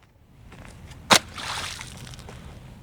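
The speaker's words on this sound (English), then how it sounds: "We're gonna throw it in the pond." A Canik TP9SF pistol lands in a pond with one sharp close splash, followed by a brief watery slosh and gurgle that fades out.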